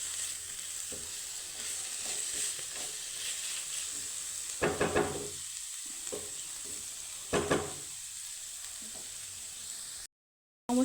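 Cabbage for a vegetarian vorta fries in a pan with a steady close sizzle and hiss, broken by a few louder scraping stirs before a brief drop to silence at the end.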